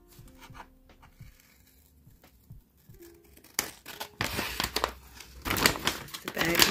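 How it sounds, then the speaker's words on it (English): Scissors cutting along flannel print fabric for a Christmas journal cover, a sequence of crisp snipping and rustling that grows louder and denser toward the end, with a voice speaking in the quieter opening. "I'm just going to cut along the flannel print."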